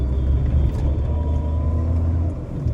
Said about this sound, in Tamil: இன்னொரு வண்டி வருது எதிர்த்தாப்புல.